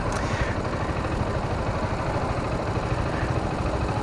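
A motorcycle engine runs steadily at low revs with a constant rumbling drone and heavy wind buffeting, loud and close throughout.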